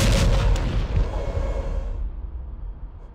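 Heavy artillery fire booms in the video game Arma, a loud deep blast with a long rumbling decay that fades into quiet.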